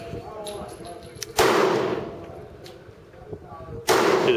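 Pistol shots fired at a target from an FN Five-seveN or Grendel P30, two sharp loud reports about two and a half seconds apart, each ringing out briefly, with quiet background between them.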